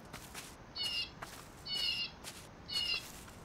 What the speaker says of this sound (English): I can hear some weird birds